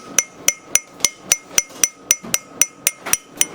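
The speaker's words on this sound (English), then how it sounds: "I'm gonna get my magic hammer here." A hammer taps a pulley onto a compressor shaft in a steady rhythm, about thirteen sharp, ringing metal strikes evenly spaced and close by.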